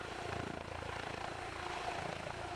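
Comanche military helicopter flying, its steady rotor chop and turbine whine holding at a constant, moderate level with no talk over it.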